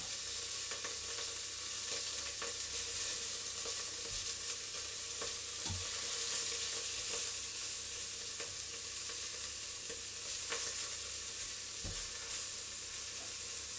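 Beef chunks browning in a pan for Boeuf Bourguignon, with a steady bright sizzle throughout and a few soft knocks as the pieces are turned. No talking is heard.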